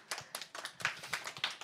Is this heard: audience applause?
yes